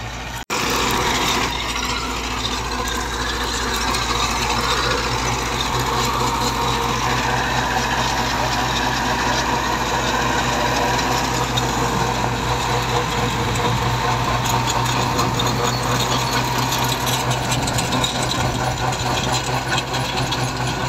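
A Massey 385 tractor works a rotavator, its engine droning loudly and steadily up close for the whole stretch, labouring under heavy load with no voices over it.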